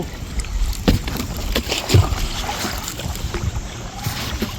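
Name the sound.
paddling a rowboat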